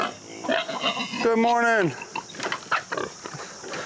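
Pigs on a farm give a loud, drawn-out squealing grunt near the middle, with other rough snorts around it, while someone speaks a brief greeting over them.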